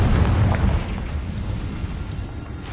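A Confringo fire spell blast from the Hogwarts Legacy video game, a heavy low boom at the start that trails off into a rumbling tail, with no voices.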